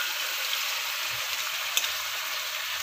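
Tomatoes and turmeric sautéing in a pan for sambar give a steady, close hiss of sizzling, even and continuous with a faint tick or two.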